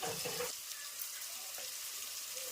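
Tomatoes frying with chili powder in a pan, a continuous soft sizzle close by, with a brief louder stirring burst at the start.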